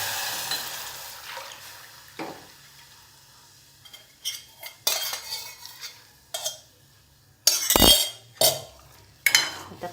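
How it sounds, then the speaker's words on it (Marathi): Buttermilk mixture poured into hot tempering for kadhi: a steady sizzle, then clinks and scrapes of a utensil stirring the pot in short bursts, close by, with no voices. "हे जे काही ताकाचं मिश्रण असतं आपलं ते त्यात सोडून द्यायचं"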